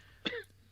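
A single short cough or throat-clear from a short horror film, one abrupt rasping burst lasting a fraction of a second, close but fairly quiet against a low steady hum.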